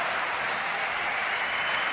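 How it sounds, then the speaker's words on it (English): Steady applause from a tennis crowd fills the whole stretch, dense and even with no voices on top, after a player reaches a ball at the net during a high-stakes match. "He deserves that clap"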